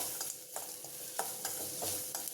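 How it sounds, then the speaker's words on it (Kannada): Chopped onions fry in oil in a pan, a soft low sizzle with intermittent stirring taps and light scrapes, quiet and close. "ಈರುಳ್ಳಿಗೆ ಸ್ವಲ್ಪ ಹಸಿ ವಾಸನೆ ಬರೋ ತನಕ ಹುರ್ಕೊಳ್ಳಿ"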